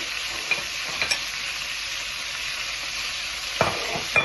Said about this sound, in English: Couscous meat, how to fry like this.